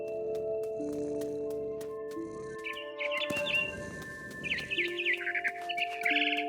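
Small bird chirps in What Remains of Edith Finch, a run of short, bright tweets rising over a steady ambient game drone and sustained tones, growing busier and closer toward the end.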